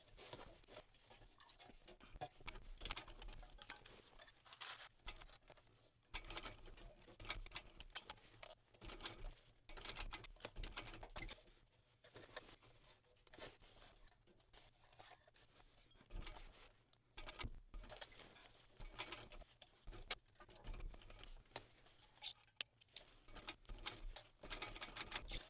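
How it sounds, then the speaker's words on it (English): Sewing machine stitching a seam with backstitching on a magnetic-snap Aphrodite Versa-Bag, a continuous fast close whirring patter that starts and stops in bursts. "I'm just going to stitch in between these two points for now and do both sides."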